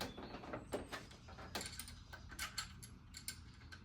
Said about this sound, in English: The only thing I'm doing now is unscrewing the ground from back of the alternator.